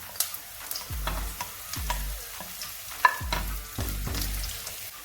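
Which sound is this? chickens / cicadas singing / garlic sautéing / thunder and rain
garlic sautéing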